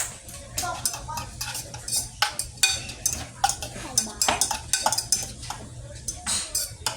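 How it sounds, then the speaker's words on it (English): Metal utensil scraping and clinking against a pot while rehydrated rice is fluffed, a busy run of uneven, close scratches and taps with no talk. "So we're going to fluff it out."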